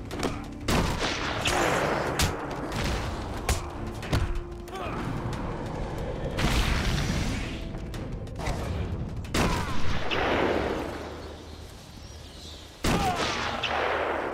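Snipers shooting in Batman: Arkham Asylum: sharp, cracking shots and thuds ring out irregularly over a low, droning background, some close and loud, others fainter.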